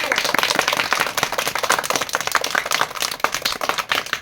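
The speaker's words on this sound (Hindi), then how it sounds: "ताली मारो।" A group of people claps hands in dense, uneven rapid clapping, fairly close, at a Republic Day gathering in a village comedy sketch; steady throughout with no clear speech.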